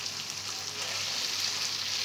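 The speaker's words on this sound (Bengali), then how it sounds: "পনিরটা একটু এর সঙ্গে ফুটে দিতে হবে।" Chilli paneer simmering in sauce in a pan gives a steady, close sizzle and bubbling hiss that runs without a break, with no talking over it.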